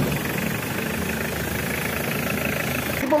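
A Mitsubishi Pajero engine idles steadily after starting, with a low, even rumble and slight vibration, continuous and close, with no voices.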